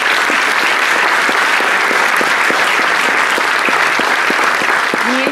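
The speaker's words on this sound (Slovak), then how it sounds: "zaslúžite si určite aj potlesk" Audience applause after thanks to a horticultural vocational school in Piešťany, Slovakia: a steady, dense wash of many hands clapping, loud and sustained throughout, no voices over it.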